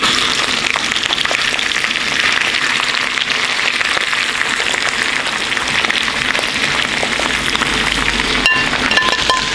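Shrimp frying in a pan at an outdoor overland camp cookout, giving a steady, loud, dense sizzle that runs without pause, with a faint clink near the end.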